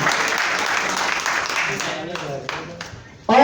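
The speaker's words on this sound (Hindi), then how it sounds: "चाहेंगे बहन के सम्मान में एक बार जोरदार तालियां," Loud applause from an audience at a stage event in India, with dense clapping that thins out toward the end, mixed with voices.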